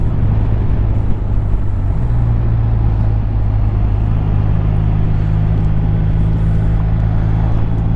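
A BMW R 1250 RT LE touring motorcycle rides along back roads, giving a loud, steady engine drone mixed with road and wind rumble that carries on without a break.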